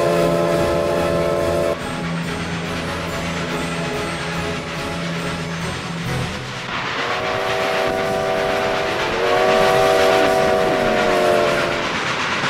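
A loud, sustained train whistle in the video game Trainz blows in two long blasts over the steady rumble of a moving train.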